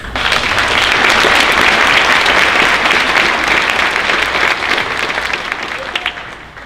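Steady, full applause from a crowd at a 2019 Bremen High School honors night, loud and sustained for several seconds before tapering slightly at the end.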